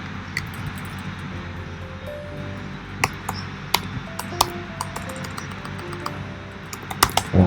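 Someone types a command on a computer keyboard, a scatter of sharp close clicks and key taps over a steady low background hum, with no speech.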